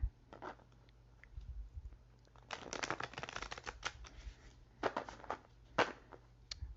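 Tarot cards being shuffled by hand, with soft riffling and papery flutters in irregular bursts, quiet and close with no voices.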